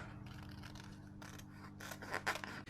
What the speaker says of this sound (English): then I'm just going to grab my scissors